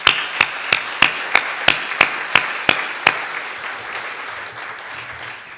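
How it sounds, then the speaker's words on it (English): Audience applause at a pulmonary hypertension conference session, opening with a few loud, sharp claps in a steady beat over the crowd. These ease after about three seconds into a softer, even wash of clapping. "I think we should give them a round of applause"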